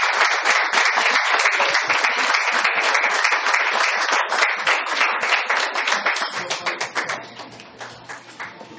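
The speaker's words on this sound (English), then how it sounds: "Give her a big round of applause" An audience gives a loud, dense round of applause to welcome Scherie Murray, a longtime QV GOP member, at an evening political gathering; the clapping stays steady, then thins to scattered claps before fading.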